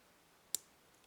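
A single sharp, faint click sounds as a pin sets while a 9-pin Yale Superior lock with four sliders is being picked, standing alone against near-silence.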